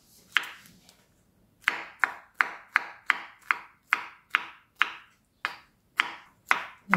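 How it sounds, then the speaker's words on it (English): A knife chops pineapple into small pieces on a board: about a dozen crisp, evenly spaced chops after a brief pause, close and fairly quiet. "now finely chop the remaining part of the pineapple into small portions that can get into the blender"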